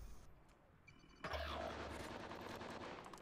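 Video game gunfire bursts into a dense, sustained rattle of rapid shots partway through, following a quieter stretch of faint game ambience, with no talk over it.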